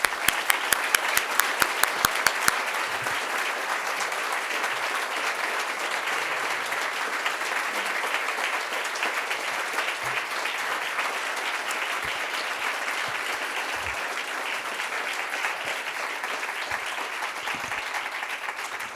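A large audience at a university ceremony applauding to welcome a new dean, opening with a few loud individual claps before settling into sustained, dense, even applause that fills the room for the full length.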